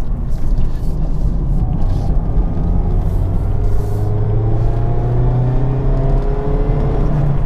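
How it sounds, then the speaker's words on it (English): A steady Mazda MX-5 RF engine drone heard from inside the cabin with the roof up, a low hum rising slowly in pitch as it accelerates, with road rumble underneath. "with the roof up, you can just hear that engine a little bit more in the cabin."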